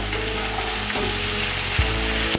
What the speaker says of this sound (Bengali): মশলাটা দিয়ে এবার ভালো করে মিক্স করবো।